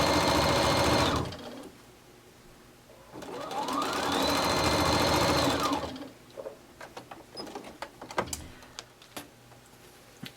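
A sewing machine fitted with a number 23 foot stitches piping for a purse handle, running in two loud whirring bursts with a pause between, followed by scattered clicks and taps.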